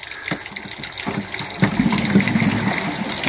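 Water gushes out of a boat once a small plastic drain knob is loosened during winterizing. The flow builds from a trickle into a steady, close, splashing stream that grows louder toward the end.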